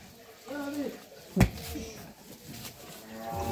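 A dairy cow moos nearby in a village courtyard while people talk, with a sharp thump partway through and lowing calls rising through the chatter.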